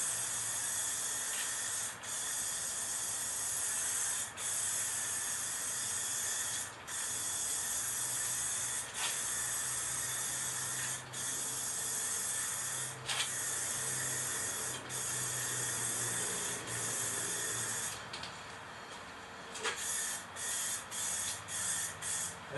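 Spray gun painting a 2001 Dodge Ram 2500 truck fender, a continuous hiss in long bursts separated by brief pauses, ending in a quick series of short sprays, close and alone.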